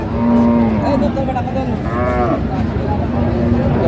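Sahiwal cattle, including bull calves, moo loudly and nearby at the new livestock haat in Joypurhat district, with low market noise running underneath.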